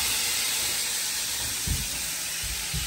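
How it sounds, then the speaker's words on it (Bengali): Cauliflower fries in hot oil for a Bengali roast, giving a steady close hiss like steam with a few low thumps near the end and no speech. "নিতু এখানে মাকে ভেজে দিচ্ছে ফুলকপি, রোস্ট বানাবে ফুলকপি।"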